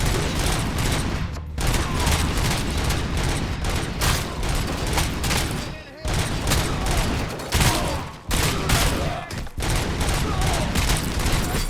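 Dense, continuous gunfire in the RoboCop: Rogue City video game, rapid bursts and heavy shots overlapping loudly with brief dips, mechanical clanks mixed in.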